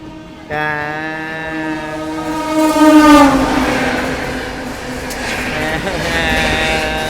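A loud train horn blares near, then the Bidar Express rumbles away from a station and picks up speed, its wheels and engine noise building steadily.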